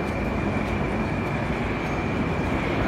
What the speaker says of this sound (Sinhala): ඉතින් ඔයාලා පේන ට්‍රේන් එක පොඩ්ඩක් බලන්න කොහොමද කියලා